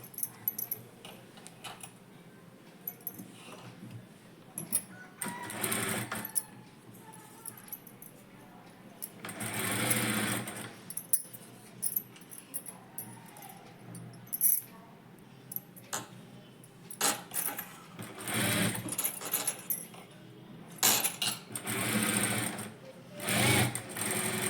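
Sewing machine stitching a net sleeve onto a blouse, running in repeated short rattling bursts with quiet pauses between, while a voice is faintly present in the background.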